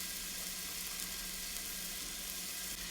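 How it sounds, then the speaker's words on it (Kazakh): Steady, close sizzle of sliced sweet peppers, eggplant and tomato frying together in a pan for a vegetable ragout, a continuous even hiss with no talk. "Жақсылап араластырып қуыруды жалғастырамыз."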